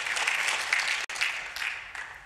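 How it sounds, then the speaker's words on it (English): Audience applause at a Fedora conference talk, a short broadband burst that breaks off briefly about halfway through and then carries on at steady moderate loudness. "If I can get a round of applause for Nick."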